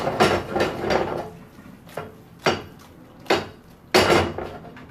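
Gnocchi going into a pan of tomato sauce: a series of clattering, knocking kitchen sounds, several sharp taps and scrapes of utensil against pan at uneven intervals, fairly close.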